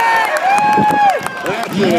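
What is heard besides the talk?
crowd cheering at field gun time trials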